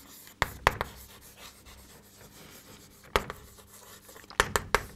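Pen writing an answer to a school math problem on paper: a few quick sharp taps and short scratchy strokes, fairly close and quiet, with soft room noise between them.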